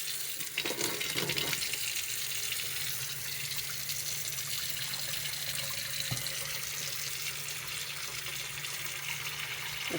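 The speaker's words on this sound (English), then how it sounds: "It's one hand washing for the camera here" A kitchen tap runs steadily as hands are washed beneath it, a close continuous hiss of water with a few brief splashes and knocks, no talking over it.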